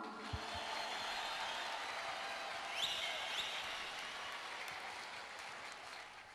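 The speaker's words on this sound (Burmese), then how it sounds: "လက်ခုပ်တီးပေးရအောင်" Sustained applause from a crowd, an even wash of clapping that continues steadily from start to finish at moderate distance.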